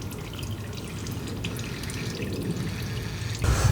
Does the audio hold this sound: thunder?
no